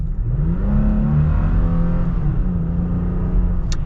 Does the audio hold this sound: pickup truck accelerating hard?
yes